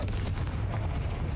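A blast from the Confringo fire spell in a wizard video game: a low, rumbling explosive boom that swells and holds briefly, fairly quiet and alone without talk.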